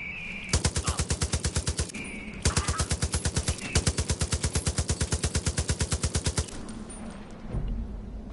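Rapid automatic gunfire rings out in Far Cry 5, with two long, evenly paced bursts of loud, close shots separated by a short pause, then a quieter tail of distant rumble.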